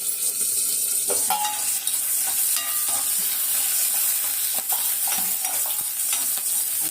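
Dried red chillies fry in a pan, a steady bright sizzle with intermittent scraping and clinks of a spoon stirring against the metal, close and continuous, no voices.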